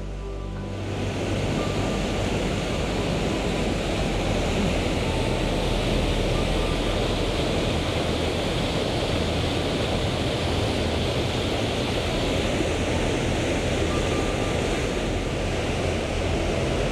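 A waterfall in Killarney woodland, Ireland, pours out a steady, dense rush of water that holds at an even loudness from start to finish, with no voices over it.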